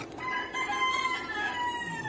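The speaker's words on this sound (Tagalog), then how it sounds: "Maingin na yung manok ni San Pedro." A rooster crows once in a single long, clear cock-a-doodle-doo at moderate distance, with nothing else sounding.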